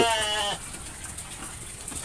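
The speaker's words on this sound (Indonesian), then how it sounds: "Di sini ada kandang domba." A single sheep bleats in a pen at the start, a clear wavering cry lasting about half a second, followed by quieter barnyard background.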